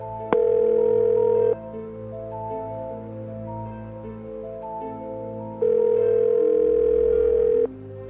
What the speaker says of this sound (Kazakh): Әрине, қоңырау шалдым бірден, бірақ ешкім көтермеді.